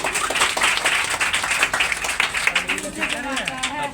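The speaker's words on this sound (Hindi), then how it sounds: "ताली बजाओ यार।" A crowd of students claps steadily throughout at a Teacher's Day event, dense and fairly loud, with voices mixed in beneath the applause.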